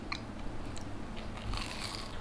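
A crunchy fried patty of mixed meat and onion gets bitten and chewed up close, with a sharp bite at the start and crisp crackling crunches building later, no talking.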